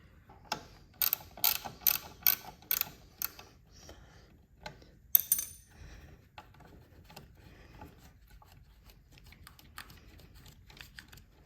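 A ratchet removes a screw from a Harley-Davidson floorboard, giving rapid bursts of close, crisp clicking pawl ratchets in quick strokes, then a few sparser clicks and light metal handling.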